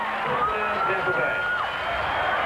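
A 72,000-strong Bucks home crowd roars steadily at a 1979 pro football game, a broad wash of cheering that sits under a commentator's voice.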